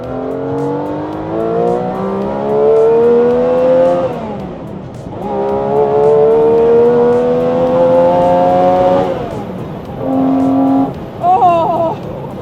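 A Tuthill Porsche 911K's rear-mounted engine screams loudly on a race track, climbing through long rising revs, dropping briefly between gear changes, then rising again.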